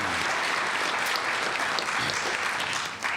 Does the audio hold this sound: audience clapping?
yes